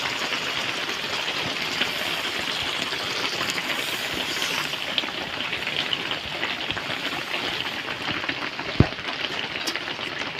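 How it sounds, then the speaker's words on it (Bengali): Spice paste water poured around a simmering Bengali fish-and-egg curry, giving a steady wash of bubbling and trickling liquid that holds close and even throughout, with one sharp tap near the end. "দেখুন মশলা বাটা জলটা আমি চারিদিক দিয়ে দেবো।"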